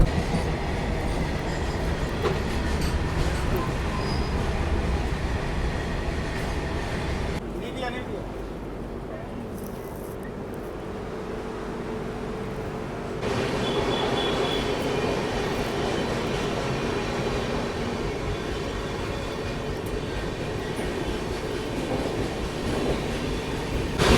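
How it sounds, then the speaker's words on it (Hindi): Tamil Nadu Express running on tracks, with a continuous loud rumble and wheel rattle that drops to a quieter, hollower stretch midway before the full roar returns. "फिर अभी थोड़ा सा स्पीड अप हुई है ट्रेन।"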